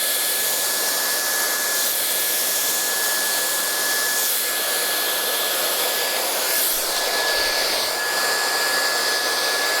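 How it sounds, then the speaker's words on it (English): A hair dryer blows steadily and loudly at close range while a thermal brush works through hair, a constant airy roar with a thin high whine and faint rubbing underneath. "I'm just going to take my thermal brush and I'm going to blow dry the hair that way over."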